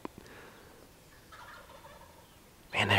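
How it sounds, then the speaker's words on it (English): Wild turkeys gobbling on a spring morning hunt, a distant faint gobble early on, then a loud close burst of gobbling near the end, with no talk. "They are gobbling like crazy this morning."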